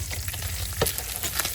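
Hamburger meat frying in a pan, a steady close sizzle with a few brief scrape-like bursts as it is moved, no voices.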